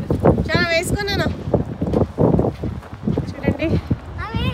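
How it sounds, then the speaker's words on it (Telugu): Strong gusts outdoors at a shopping outlet, heard as a low rumbling buffet against the microphone that rises and falls throughout, beneath near, continuous conversation. "చూడండి, ఫుల్ విండి విండి."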